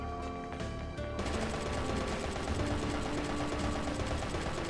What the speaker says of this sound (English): I can just continuously shoot it